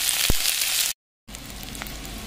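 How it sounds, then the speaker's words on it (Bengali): Garlic and green chillies sizzle and fry steadily in a pan for prawn and taro stolon cooking, with a brief gap of silence partway and occasional stirring scrapes. "দিয়ে এগুলোকে নাড়াচাড়া করে ভালো করে ভেজে নেব"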